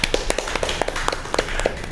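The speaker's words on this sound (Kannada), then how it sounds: "ಜೋರಾಗಿ ಚಪ್ಪಾಳೆ ಕೊಡೋಣ" An audience at a felicitation event led by a singer claps, with scattered sharp hand claps tapping in an uneven rhythm over a low background rumble.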